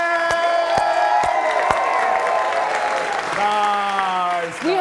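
Audience applause at a live televised show in Kenya, sustained clapping with broadband noise throughout, bursts of cheering over sustained music tones, and a voice coming in near the end.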